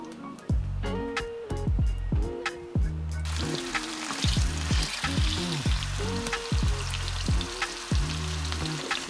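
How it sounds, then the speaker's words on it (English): Pineapple slices sauté in a hot pan with a steady, close sizzle, broken by repeated low knocking bursts through the first half and continuing to the end. "we're going to slowly saute the pineapples"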